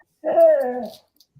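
A dog gives a single short, tonal whimper, a rising then falling whine of under a second, close and clear in an otherwise quiet room.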